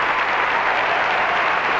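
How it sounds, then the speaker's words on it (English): A Target Center arena crowd applauds a Stars On Ice figure skating program, a dense, steady wash of clapping from many hands at full volume with no breaks. "They had a standing ovation"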